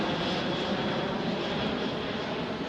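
A military paratrooper transport airplane's engines give a steady, loud, broadband drone from inside the aircraft, with no voices heard.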